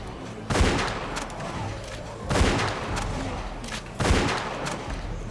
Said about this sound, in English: Can I not mess up my gunshots this time?